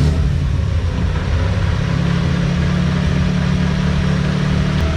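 A car engine running with a low steady rumble after starting, a smoking engine with a suspected blown transmission or engine fault, droning evenly at close range without talk.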